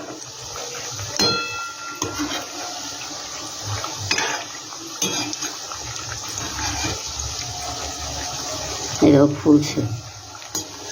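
Water-filled sandesh frying in a pan over medium heat, with a continuous close sizzle broken by occasional clatter of a utensil against the pan while someone talks over it.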